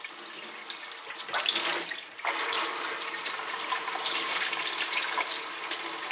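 Tap water runs steadily into a kitchen sink, a close, hissing splash that briefly changes as hands or a piece of chicken pass under the stream and then continues evenly.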